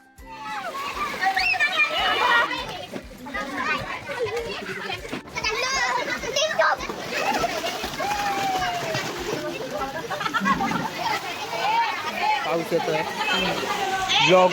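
Children shout, laugh and play in a swimming pool at a farmhouse in Karjat, with water splashing and sloshing throughout amid lively, overlapping chatter.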